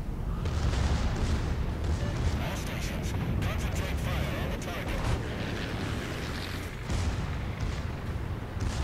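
Battleship guns firing from the USS Missouri in the naval video game World of Warships. Heavy, rumbling booms roll over a dense, continuous low roar of battle, and someone talks throughout.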